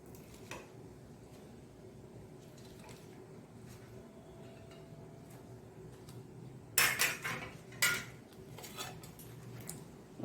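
A knife cuts through a freshly fried Malabar spinach (basale leaf) bonda with a potato filling. A few crisp crunching bursts come close together near the end, after a quiet stretch of background hum.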